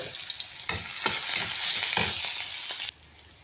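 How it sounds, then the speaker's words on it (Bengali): Garlic fries in hot oil in a wok before greens are added, a loud, close, continuous sizzle with repeated scraping strokes of a spatula stirring it, easing slightly toward the end. "কড়াইয়ে তেল দিয়ে দিলাম। এখন রসুন দিয়ে দিই"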